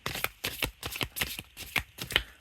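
Oracle cards being shuffled by hand in a rhythmic series of crisp riffling bursts, about eight close, fairly quiet strokes with no voices.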